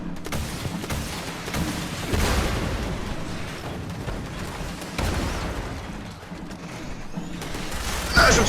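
A video game battle rages with dense gunfire and heavy booming explosions, loud and continuous, with repeated sharp bursts over a rumbling background.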